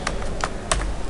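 Typing on a computer keyboard while entering a localhost address into a web browser, a few distinct key clicks in a quick irregular burst, close and clear with no talk.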